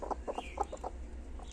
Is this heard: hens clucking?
yes